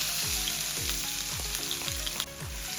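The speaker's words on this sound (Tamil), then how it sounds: "இப்போ இந்த இடிச்ச இஞ்சி உள்ளியை தான் நான் முதல்ல இந்த எண்ணெய்க்குள்ள போட போறேன்" Crushed ginger and garlic fry in hot oil for a soya meat curry, making a loud, steady sizzle close by. Rhythmic stirring strokes repeat about every half second beneath it.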